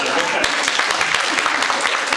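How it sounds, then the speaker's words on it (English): University students in Kiev clap together in a lively, close round of applause, individual claps audible in a quick irregular patter that stays loud throughout the short burst. "Let's applaud to that as well."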